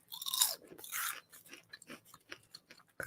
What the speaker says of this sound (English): Can you get over that crunch?